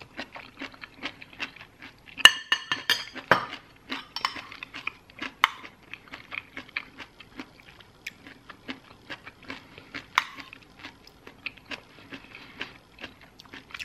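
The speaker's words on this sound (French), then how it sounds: "Je crois que je vais prendre un couteau." Cutlery and a knife clink and scrape against a plate while someone eats a pasta gratin, producing sparse, close, crisp taps and clatters in an irregular rhythm, with soft chewing sounds between them in a quiet room.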